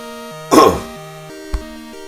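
A single sharp cough followed by a brief throat-clearing grunt, heard over a steady sustained musical tone.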